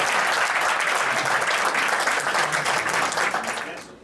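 An audience at an award ceremony breaks into loud, dense applause that holds steady for several seconds and then fades away at the end.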